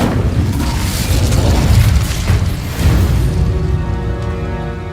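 An Incendio fire spell blast in the game Hogwarts Legacy, loud rolling booms and bursts with a roaring rumble that swells twice, then fades under a tonal ringing.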